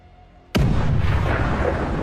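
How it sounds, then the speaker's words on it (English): A HIMARS rocket launcher fired by Ukrainian troops lets out a sudden, sharp blast that swells straight into a loud, sustained roaring rush. "As HIMARS arrived, Ukrainian troops immediately fired."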